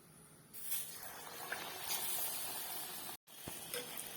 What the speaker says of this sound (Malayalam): ഓരോന്നും മാവിൽ മുക്കിയിട്ട് ചൂടായ എണ്ണയിലേക്ക് ഇട്ടിട്ട് ഫ്രൈ ചെയ്ത് എടുക്കാം